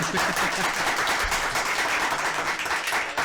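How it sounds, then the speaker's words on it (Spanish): Applause for two teachers at the close of an interview talk, steady dense clapping from a studio audience lasting the whole stretch, fairly loud and even, with no talk over it. "un aplauso para ellas"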